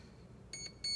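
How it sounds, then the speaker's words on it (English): A Proboat Zelos 36 boat's electronic speed control gives its programming beeps: two pairs of short, high electronic tones, quiet and close against a faint background hum. "now it's gonna go three beeps for LVC threshold"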